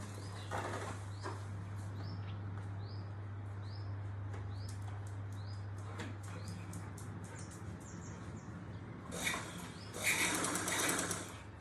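A home sewing machine stitching fabric with a steady low motor drone and a rapid needle patter, birds chirping faintly in the background and a brief rustle near the end.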